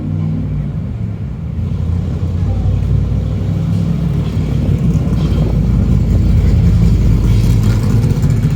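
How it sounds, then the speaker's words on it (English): An old Corvette or some exotic car drives past a walker on Portland Street in Dartmouth, its deep engine rumble building from moderate to loud and staying close and steady over street noise. "Looks like a very old Corvette, but I don't know if it is or not."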